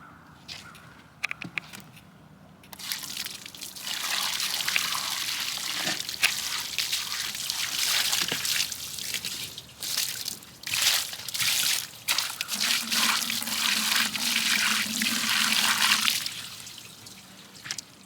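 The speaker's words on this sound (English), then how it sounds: "So we will do the water pouring and see what happens." Water is poured over a sealed LiFePO4 battery in a waterproof aluminum case, a loud continuous splashing and sloshing with dripping and trickling that runs almost the whole time and eases off near the end.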